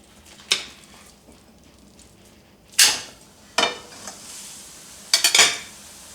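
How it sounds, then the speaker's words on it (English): Beef browns in a pan while a utensil strikes and scrapes the metal in four sharp, separate clatters, with a faint sizzle running quietly underneath. "Now we're going to brown the beef."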